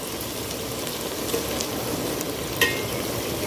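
Okra (bhindi) frying in a pan gives a steady, close, even sizzle with one brief clink near the end.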